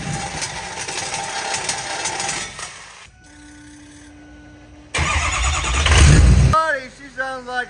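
A rough truck at a county fair, its bug shield just removed, cranks and starts, then runs with a loud, uneven engine roar swelling near the end. People talk before it and around it.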